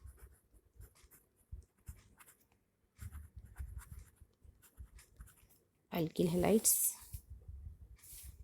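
Pen writing organic chemistry notes on alkyl halides during a lesson, soft scratchy strokes running under a teacher's steady talk, with a louder, brighter burst of noise near the end.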